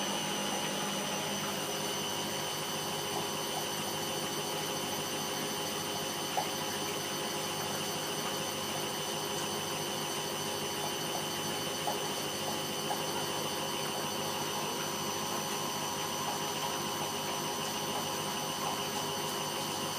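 Candy GODF800 washing machine on a spin cycle, slightly unbalanced and rocking, giving a steady, continuous motor whine and hum with faint rattles, holding constant throughout.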